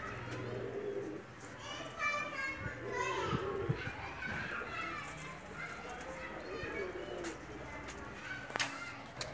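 A pair of Pakistani pigeons coo softly after being released, their low calls mixed with nearby children playing and people talking.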